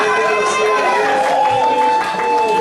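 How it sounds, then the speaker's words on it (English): Convention closing-ceremony crowd cheering and whooping, a loud dense roar of many voices filling a hall, with shouted calls mixed in. "That's what you cheer. You're cheering for PowerPoint."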